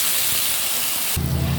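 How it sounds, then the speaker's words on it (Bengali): Water poured into a hot pan of frying mixed vegetables with soybean and mushroom bursts into a loud, continuous hiss of steam that shifts abruptly in tone near the end. "এবার জল ঢেলে দেবো।"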